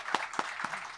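Audience applause at a talk on political education, a brief, fairly faint patter of a few distinct claps over roughly a second.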